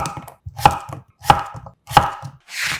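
Knife slicing half a cucumber diagonally into thick pieces on a cutting board, three crisp distinct chops spaced evenly, close and clear, followed by a brief softer scraping at the end.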